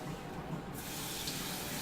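Tap water runs steadily from a kitchen faucet into a cup, a continuous close hiss and splash with no pauses and no talking.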